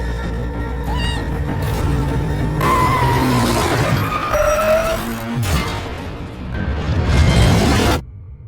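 A truck speeding in from a distance in a dramatic movie scene, with a building roar, tire squeal and scraping skid that cuts off abruptly into near silence.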